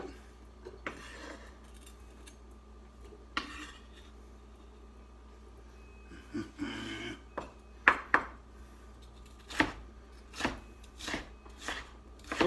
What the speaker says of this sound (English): So we're chopping these up fine.